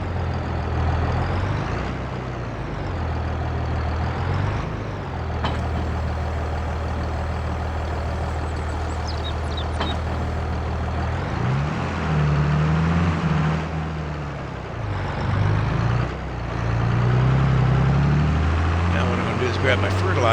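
A tractor engine idles in Farming Simulator 22, a steady low diesel rumble that rises and dips throughout, with someone talking over it.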